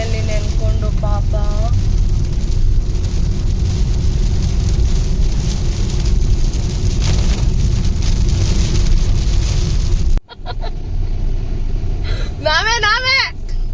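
Heavy rain drums steadily on a car during a trip through the rain, a dense, loud wash that continues throughout. Near the end it briefly drops out, and a voice talks over the noise.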